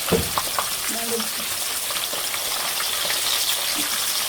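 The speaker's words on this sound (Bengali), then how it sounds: "এখন তেলটা গরম হয়ে গেছে, মাছটা দিয়ে দেবো।" Rupchanda fish rubbed with chili powder, salt and turmeric frying in hot oil, a continuous close crackling sizzle with a few light clinks near the start.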